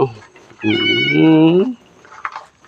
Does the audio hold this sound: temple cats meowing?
yes